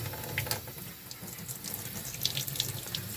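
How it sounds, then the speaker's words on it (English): Tap water runs steadily into a sink as a plastic model part is rinsed under it, a continuous close hiss with faint clinks and splashes, no voices. "We're going to wash it. Give it a rinse."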